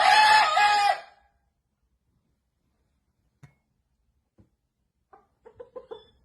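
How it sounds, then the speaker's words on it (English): A rooster inside a house lets out one loud, close crow, followed after a pause by scattered soft clucks and a short run of clucking. "That fucking rooster came straight up in the house."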